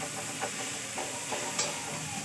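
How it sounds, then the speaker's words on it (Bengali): Onions frying in a pan with a chili tempering, a steady close sizzle and hiss with a few soft stirring scrapes, heard briefly and without voices. "এই কলমি শাকটা ভাজবো, সেই জন্য পেঁয়াজ ভাজছি লঙ্কা ফোড়ন দিয়ে"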